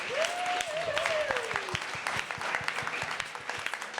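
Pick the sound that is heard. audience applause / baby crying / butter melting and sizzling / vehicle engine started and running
audience applause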